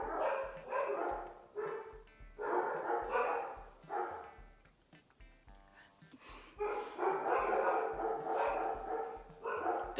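Several dogs bark close by in loud, repeated volleys, barely pausing before starting up again.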